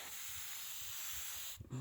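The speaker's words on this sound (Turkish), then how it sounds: "görüldüğü gibi sprey boyamızda boyuyoruz" A can of spray paint hisses steadily, marking pollinator trees among five-year-old grafted walnut trees in an orchard; the continuous broadband spray runs close and loud for most of the moment before cutting off abruptly.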